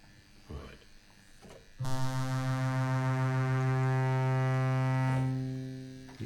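A Baldwin Fun Machine organ fitted with an added sub bass gives off a loud, steady electrical buzz for about three seconds, starting suddenly after quiet handling noises and then fading out.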